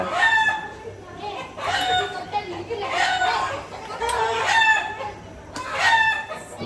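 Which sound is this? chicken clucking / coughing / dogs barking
chicken clucking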